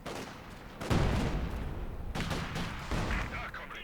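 Video game artillery barrage falling on grenadiers: several heavy booming impacts with crackling gunfire in between, moderately loud, the biggest hit about a second in and more shells landing after, with commentary faintly beneath.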